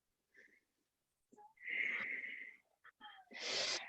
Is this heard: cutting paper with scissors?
no